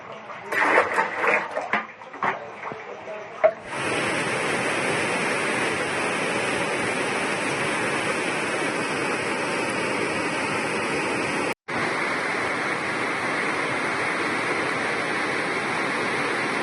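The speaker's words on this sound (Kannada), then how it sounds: "ಕಲಬುರಗಿ ಭಾಗದಲ್ಲಿ ವಿಪರೀತ ಮಳೆಯಿಂದಾಗಿ ಇಡೀ ಊರೇ ಮಳೆ ನೀರಿನಲ್ಲಿ ಮುಳುಗೋಗಿದೆ" Floodwater from heavy rain in Kalaburagi, Karnataka rushes in a loud, steady roar after a few seconds of scattered, muffled sounds. The roar breaks off briefly once before continuing.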